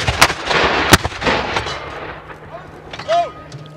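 Gunfire from a British military reenactment at Fort Liezele, with sharp loud shots, two standing out early, and scattered cracks, while voices call and shout around them in an open outdoor setting.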